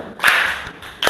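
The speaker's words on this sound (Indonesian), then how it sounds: "Oke, sekarang kasih tepuk salut buat kelompok 4." A classroom of students claps together in a 'tepuk salut' group clap, giving a few sharp, loud collective slaps in an uneven rhythm close by, with no talk.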